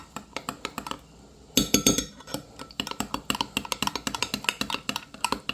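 A spoon stirring zinc powder into a homemade sunscreen mixture, giving rapid clinks and taps against the container, a brief pause and then a louder burst of quick, irregular scraping knocks close by.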